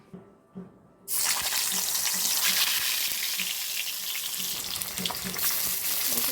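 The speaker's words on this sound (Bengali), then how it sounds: "কড়াইয়ের তেল গরম হয়ে গেছে, এখন মাছ একে একে ছেড়ে দেব" Fish pieces hit hot oil in a wok and burst into a loud, steady sizzle that fills the rest of the clip after a quiet second of low knocks.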